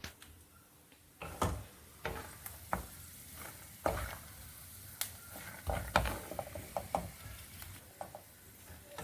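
Garlic frying in leftover oil until golden brown and crisp, a soft continuous sizzle broken by close clinks and scrapes of stirring, with no talking.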